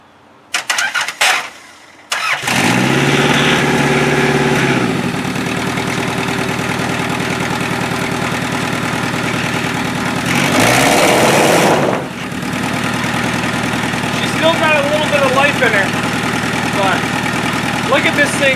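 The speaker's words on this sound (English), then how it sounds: "I think we should start her up once more and see if she'll give her a little go." A Toyota Solara demolition derby car, battered after the event, cranks over with a few quick starter bursts, then catches and runs at a loud, rough idle, with a brief rev partway through and voices talking over the engine.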